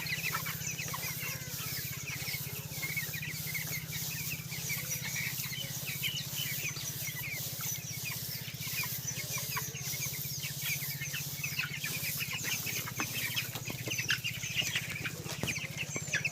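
A flock of young broiler chickens, about 15 days old, clucks and chirps continuously on straw bedding, a dense, even chorus with occasional rustling and wing flaps.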